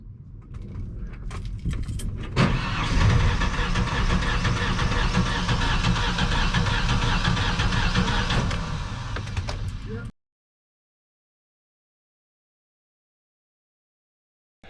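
Car engine cranking and catching after a foam engine wash, then running with a steady rough rumble and rattles for several seconds before cutting off abruptly into silence.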